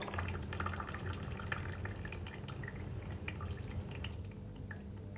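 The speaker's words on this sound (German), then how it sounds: "Aber auch das Auslaufen eines Wasserbehälters ist einzig abhängig von der jeweiligen Füllhöhe." Water running and dripping steadily as a container drains out, a continuous splashy trickle with scattered drips throughout, no voices.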